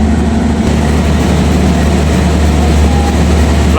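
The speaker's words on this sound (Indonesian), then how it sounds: "Lokomotif KA Ranggajati menggunakan CC206 1359 depo induk CN, depo induk Cirebon." A CC206 diesel locomotive, number 1359 from the Cirebon depot, idles at the head of the Ranggajati train at a station platform. A loud, close, steady low engine rumble runs throughout without a break.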